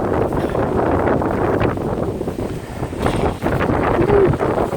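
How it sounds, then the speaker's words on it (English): Strong gusting wind buffets the microphone outdoors on a windy day, a loud continuous roar that swells and dips with no voices. "Woo, windy."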